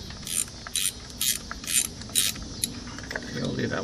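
A ratchet clicks in a quick repeating rhythm while loosening a spark plug on a Chrysler PT Cruiser, close and fairly loud against a steady background hum.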